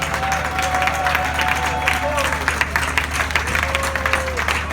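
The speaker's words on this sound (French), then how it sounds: "Et on les applaudit bien fort s'il vous plaît." Audience applauding staff at a Carrefour Market party event, a steady, dense wash of clapping and crowd noise through the whole stretch, with a voice drifting above it.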